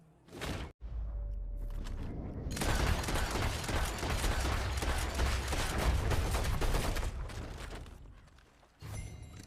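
Gunfire in Red Dead Redemption 2 during a side mission hunting an escaped circus animal: a sharp single shot opens, then a dense, loud, sustained burst of rapid gunfire rolls for several seconds before fading.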